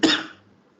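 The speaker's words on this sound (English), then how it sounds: "I'm sorry, I got a little cough." A single short cough, close and fairly loud, with a quick burst of noise that fades out within half a second.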